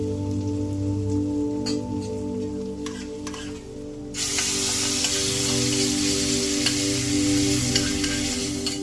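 Garlic dropped into hot tomato sauce for Alexandrian yellow-lentil koshari sets off a sudden loud, steady sizzle and hiss after a quieter stretch of low bubbling.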